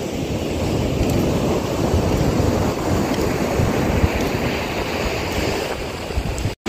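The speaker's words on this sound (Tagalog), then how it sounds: "Kaya laki na ng alon." Big ocean waves crash onto a shore lined with resorts and houses, making a continuous loud roar of surf with gusting wind buffeting the microphone throughout.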